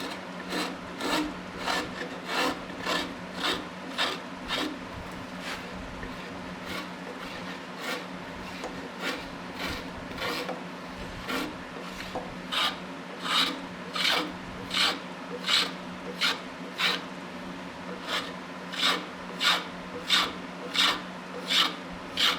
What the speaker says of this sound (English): the first thing I'm going to try is my spoke shave